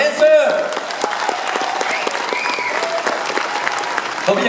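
Loud, sustained applause from an audience for performers and dancers at a Las Vegas casino show, with dense clapping filling the whole stretch and a brief voice near the start.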